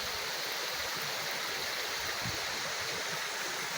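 A river stream and waterfall rush in a dense, constant hiss of flowing water, close and steady throughout with no voices.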